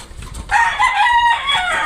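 A brood hen in a backyard flock gives a short, loud, close clucking call lasting about a second, with no voices.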